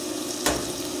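Pieces of banana squash hit a hot pan and set off a sudden sharp burst of sizzling over a constant frying hiss, then settle into a steady crackle.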